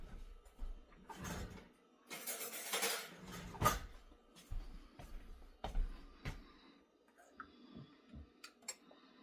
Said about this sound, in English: Let me get my tablespoon